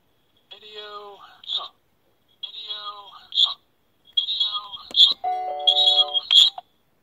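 A Nest Hello video doorbell plays its setup chime tones: four separate short melodic phrases with bright electronic dings, each followed by a brief pause, fairly clear and close with no one talking over them.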